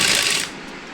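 A sewing machine stitches a housecoat with a brief, busy mechanical whir that is fairly loud for about half a second, then drops to a softer running hum.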